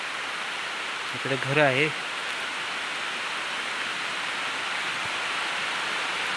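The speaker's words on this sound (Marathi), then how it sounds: "आणि पाऊस आला" Steady rain falls behind a house in the Konkan region, a constant broad hiss of rainfall from start to end, with a man's brief remark near the start.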